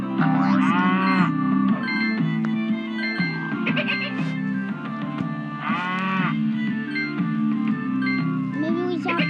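Cartoonish cow moos from the Snoring Elephant video game ring out repeatedly over a steady looping game music bed, loud and close, with several drawn-out calls spaced a few seconds apart.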